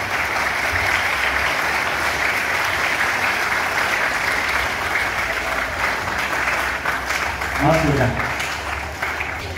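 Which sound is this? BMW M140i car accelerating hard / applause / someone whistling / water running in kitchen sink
applause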